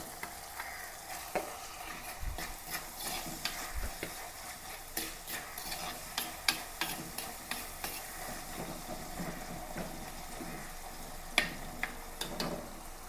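Green chilli, ginger and garlic fry in hot oil in a pan for a fish head curry, a steady close sizzle broken by repeated sharp clicks and scrapes of stirring, no voices.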